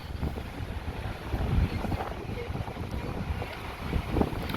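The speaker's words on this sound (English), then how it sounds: "it's very windy today. Very windy day." Heavy wind buffeting the microphone on a street in New Orleans' French Quarter, a constant rumbling roar with gusty swells throughout, no voices.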